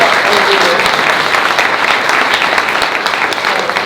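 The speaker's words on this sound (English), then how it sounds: "Please give it a big, once again, a big round of applause." A live group meet-up audience gives a sustained, loud round of applause after a speech, steady dense clapping filling the whole stretch with a faint murmur of voices underneath.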